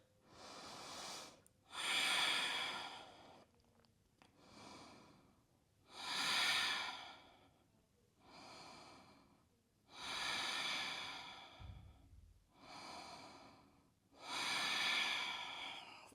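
Slow, deep breathing during a yoga pose, with about seven long airy breath cycles rising and falling in steady rhythm, close and fairly loud, with no talking.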